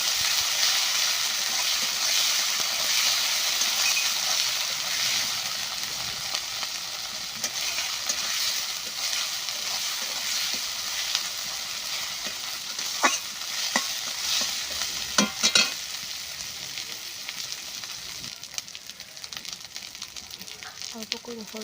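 Garlic, ginger and chili paste frying in hot oil while being stirred for an egg curry, a continuous loud sizzle with scraping strokes of the spoon and a few sharp clanks against the pan.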